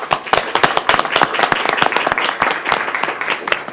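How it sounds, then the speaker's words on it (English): An audience bursts into steady, dense applause at a City of Oldsmar council meeting; the clapping is close and continuous from start to finish, with a few individual claps standing out. "So let's give them a round of applause."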